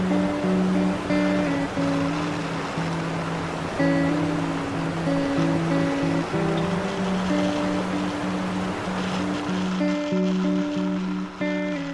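Athirappilly waterfall in monsoon roars as a dense, continuous rush of falling water, with steady music playing over the torrent throughout.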